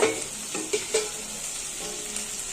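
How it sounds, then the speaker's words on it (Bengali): Chopped vegetables and chillies frying in oil in a home kitchen, a close, steady hiss and sizzle with a few sharper spatters and stirring clinks near the start. "লঙ্কা সব দিয়ে ভাজতে বসিয়েছি তেলের মধ্যে মানে এদিকে এটা ভাজা হচ্ছে"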